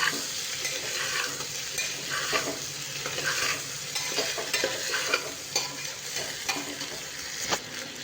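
Beans and green peas sauté in a hot pan for Maharashtrian vatana bhaat (pea rice), giving a steady, close frying sizzle broken by repeated stirring strokes throughout.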